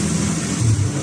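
An old motor tricycle's engine rumbles in a brief, close, steady drone on the way to a rural fish pond.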